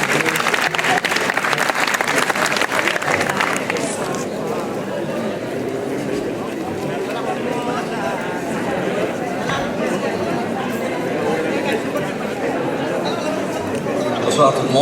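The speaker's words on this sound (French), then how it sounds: "que je vous demande d'applaudir." Audience applauding at a charity gala in Courbevoie, steady dense clapping that fades slightly after a few seconds into continued applause mixed with crowd chatter.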